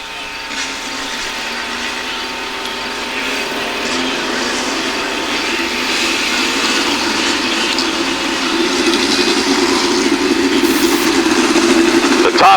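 Power I midget race cars at US 36 Raceway are pushed off to start, their engines building into a steady, rising broadband roar heard from a distance across the track over about twelve seconds.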